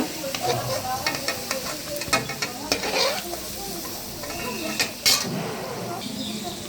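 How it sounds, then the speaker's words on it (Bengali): Potatoes coated in salt and turmeric fry in hot oil while a metal spatula stirs and scrapes the pan, giving a steady sizzle broken by close clanks and scraping. "এই যে আলুগুলো ভাজা হয়ে গেছে"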